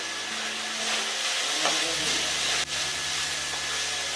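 Green chillies frying in a pan for a prawns chilli dish, giving a steady, close sizzling hiss that runs throughout without pause.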